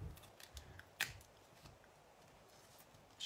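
Scissors trim tape on a Scentsy scent flower decoration, a few faint, quick close snips and clicks scattered through an otherwise quiet room.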